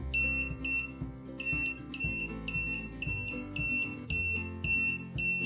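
A Kaiweets KM601S multimeter in non-contact voltage detection mode sounds a rapid, repeating electronic alarm beep near a switched-on power strip, pulsing steadily and fairly loud with no talk.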